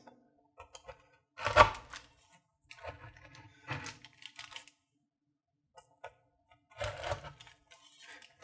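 A large knife slices through a pan of homemade granola bars, giving a few separate dull chopping thuds and scraping cuts spaced across several seconds, close and fairly quiet with silence between strokes.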